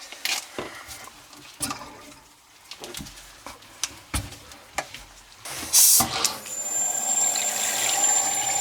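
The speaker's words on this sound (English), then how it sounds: "Let me turn the water on and see what happens" Water runs through newly installed bathroom sink piping with a trap, starting as a sudden steady gush after scattered knocks and handling noises, then continuing as a close, even flow to the end.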